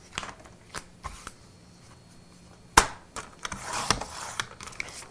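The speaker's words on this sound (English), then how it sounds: "I'm just going to tear it out. And then I'm going to cut this end off." Embossed paper for a handmade card is torn out and then cut, giving scattered papery crinkles and rustles, one sharp snap, and a stretch of rough tearing and scraping near the end. The sounds are close and moderately loud.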